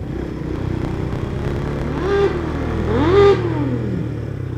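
A motorcycle engine running under a rider, idling with a throaty rumble, then revving twice in quick rising-and-falling bursts, loud and close.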